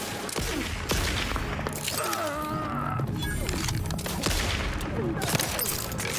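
Gunfire crackles through a battle in The Outer Worlds 2, dense overlapping shots and impacts layered with music and effects, fairly loud and continuous, with brief voices mixed in.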